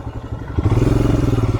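A motorcycle on a rough off-road mountain trail near Yusmarg, its engine growling close up with clattering bumps, settling into a steady, rhythmic pulsing beat as it rides on.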